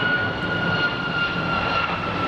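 A jet airliner at Phoenix Sky Harbor International Airport gives a steady, loud engine roar with a high whine running through it, close and unbroken for a couple of seconds, no talking.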